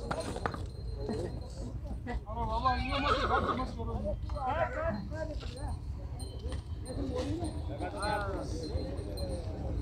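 Horses at the Pushkar horse fair whinny repeatedly in wavering cries over a busy outdoor din, with hooves clopping and people talking in the background.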